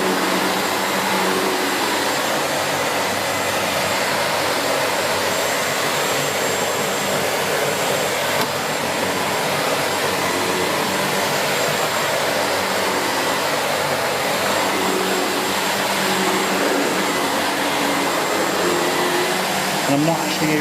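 SEBO Felix upright vacuum cleaner running at a low speed setting while cleaning a downstairs floor, a loud, steady, close whooshing roar that continues without a break.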